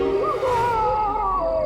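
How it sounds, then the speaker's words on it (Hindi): An eerie, drawn-out wailing scream of a spirit as a horror sound effect, a wavering tone that swells and then slowly glides on, alone without speech. "एक आत्मा की चीख है।"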